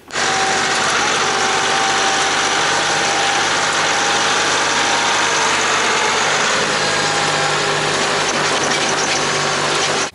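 A KIOTI tractor engine drones loudly and continuously at close range, a dense steady rumble with no breaks or talking.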